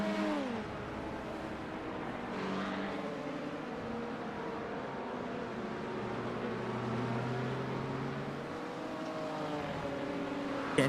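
Two LMP2 prototype race cars dueling at Road America, their engines whining and shifting pitch together as they chase each other, a steady distant roar with rising and falling tones.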